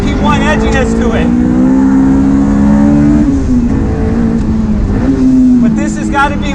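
Modified Honda S2000 on a race track, its engine howling steadily close to the microphone, rising in pitch and then easing off around the middle before building again, while someone talks throughout.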